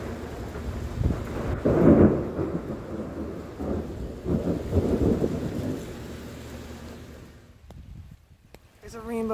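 Rolling thunder from a summer thunderstorm over Cincinnati rumbles loud and close, swelling in long low waves with rain hissing steadily underneath before it fades toward the end.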